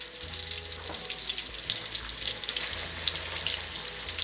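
Cube steak for country fried steak fries in a skillet with a steady, moderately loud crackling sizzle that carries on without a break.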